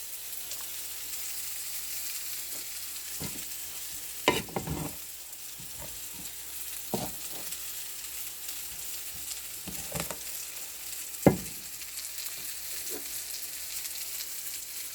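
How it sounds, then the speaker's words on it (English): Butter is stirred through yellow rice in a hot pan, with a steady soft sizzle and frying hiss running throughout, broken by a few louder scraping stirs and spoon knocks. "keep stirring until the butter will infuse all together lovely all over the rice"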